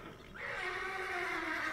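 A horse gives a single drawn-out whinny, close and fairly loud, rising sharply at the start and holding a long wavering tone to the end, with no talk over it.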